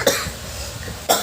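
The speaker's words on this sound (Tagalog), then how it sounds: "Antayin ko ulit umubo." A person gives two sharp, isolated coughs about a second apart, near and fairly loud, with quiet room noise between them.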